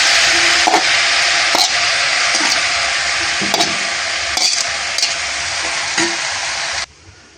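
Long beans stir-fry in a hot pan, throwing off a loud, dense sizzle broken by regular scrapes and knocks of the spoon before the sound cuts off abruptly near the end.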